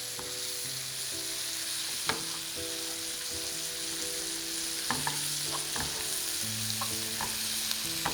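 Sardines frying and being stirred in a pan: a constant close sizzle with occasional scraping knocks of the utensil against the pan and soft clinks spread through the stir.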